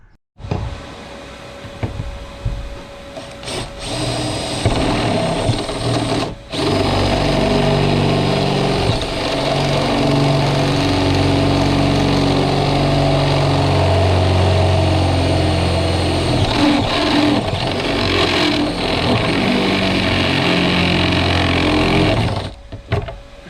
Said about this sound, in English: This drill is sounding a bit unhealthy.